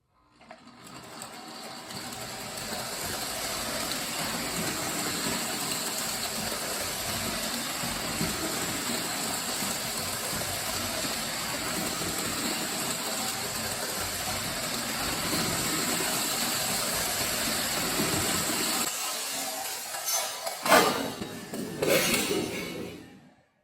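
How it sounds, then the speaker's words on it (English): A Lionel starter set toy train runs on its track, a steady mechanical whirring hum with faint rattling for about twenty seconds, then clattering knocks as it stops near the end. "So I've got the train all hooked up,"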